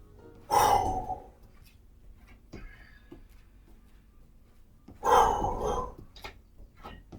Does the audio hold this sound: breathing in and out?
yes